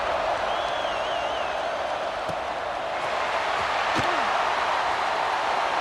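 A stadium crowd roaring during a kickoff in an online ranked video game football match: a broad, steady, loud roar of cheering filling the background, with a commentator talking over it.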